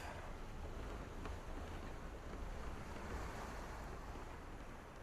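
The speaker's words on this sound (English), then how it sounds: "We are under sail. Motor's going off." A sailboat under sail with the motor off rushes through open water, steady waves and wind buffeting the microphone throughout with no voices.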